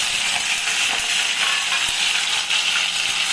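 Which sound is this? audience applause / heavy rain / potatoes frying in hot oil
potatoes frying in hot oil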